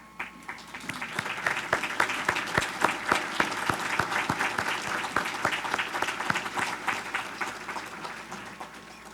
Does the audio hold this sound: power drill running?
no